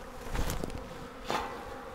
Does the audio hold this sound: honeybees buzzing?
yes